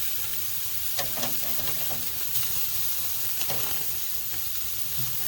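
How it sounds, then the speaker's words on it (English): Steak fat caps sear over a live fire in a Chud Box cooker, giving a soft, continuous sizzle and hiss with a few faint crackles and pops. "I'm going to burn off this fat cap on the side of these steaks."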